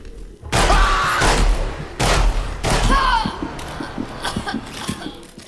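Bursts of gunfire from the video game Project Starfish. Two loud, close volleys of rapid shots ring out about a second and a half apart, then fade into lighter scattered pops and thumps.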